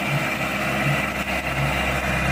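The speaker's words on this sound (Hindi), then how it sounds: "ये AC 450 ट्रैक्टर है" An ACE 450 tractor, 45 HP, pulls a 7-foot Shaktiman rotavator through hard, barren ground, its engine running at high RPM under load with a loud, steady, close drone.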